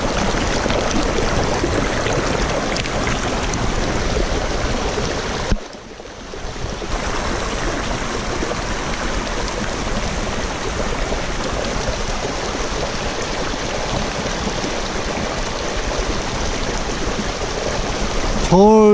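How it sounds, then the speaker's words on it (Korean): A babbling stream runs close by on a mountain hike through wildflower meadows in Paradise Park, its water making a continuous, broad rushing hiss with one brief dip before it flows on steadily. "졸졸졸 시냇물 소리."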